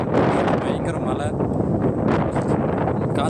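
Strong wind gusting across a mountain viewpoint on a hill road toward Valparai, buffeting the microphone with a steady roar and rustle, while a person talks over it throughout.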